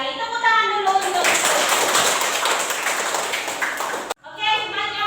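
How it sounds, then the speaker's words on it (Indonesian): Classroom of children clapping hands together in a brisk burst of applause lasting several seconds, loud and close, with a teacher's voice speaking before and right after it. "Tepuk tangan dulu untuk."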